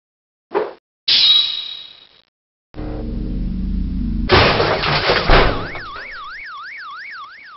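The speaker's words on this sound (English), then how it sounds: "Y'all done gone and smashed my Bentley." A sharp clang and metallic crash as a Bentley is smashed, then heavy impact noise and a rising car alarm wailing in a repeating up-down pattern.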